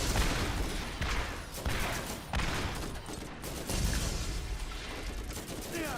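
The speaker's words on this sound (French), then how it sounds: "je viens de voir un missile de ta tourelle partir" A turret fires missiles in the video game Borderlands, heard as dense, continuous bursts of gunfire and explosions that stay loud and busy throughout.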